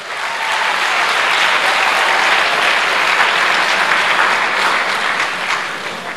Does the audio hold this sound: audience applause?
yes